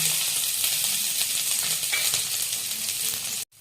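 Dried red chillies, curry leaves and shallots crackle and sizzle steadily in hot oil, a continuous bright hiss with small pops, cutting off abruptly at the end.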